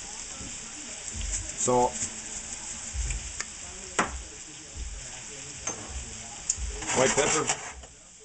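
Broccoli and cooked rice sizzle steadily in a hot pan, with scraping stirs and clinks of a utensil against the pan; a voice speaks briefly over the frying.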